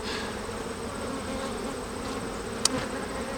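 Honeybee colony buzzing during a varroa mite inspection, a warm, reactive hive giving a dense, steady hum close by, with a single sharp click near the end.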